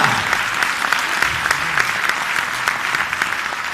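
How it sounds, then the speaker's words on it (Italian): Concert audience applauding a town concert band at a Rosolini concert: dense, sustained clapping from a large crowd, loud and close, with no voices rising above it throughout. "un applauso per questa banda."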